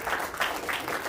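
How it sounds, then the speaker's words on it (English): Applause from a church congregation during a Sunday morning worship service, a steady patter of many hands clapping in bursts across the whole moment, moderately loud and close. "Give him a round of applause."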